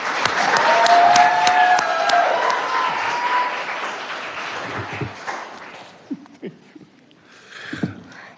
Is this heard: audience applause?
yes